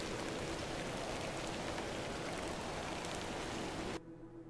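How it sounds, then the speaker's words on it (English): Steady rain from the video game The Excavation of Hob's Barrow, a dense even patter that continues for about four seconds before cutting off abruptly, leaving a faint low hum. "A little rain is no bother."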